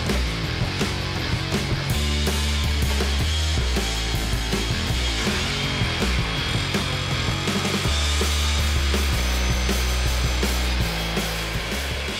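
A miter saw with a zero clearance fence cuts oak, beech and teak, making a loud, steady motor whine and cutting roar that runs without a break.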